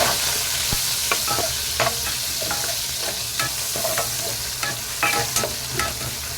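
Chopped onion and crushed garlic sauté in a pan for a Tamil fish curry, meen kulambu, with a steady close sizzle and repeated scrapes of a stirring spoon throughout.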